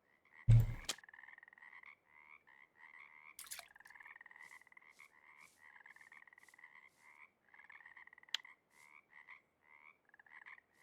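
Frog croaking in the fishing game Russian Fishing 4, a steady run of rhythmic croaks repeating through the scene at moderate level, with a couple of sharp clicks and splashy bursts near the start.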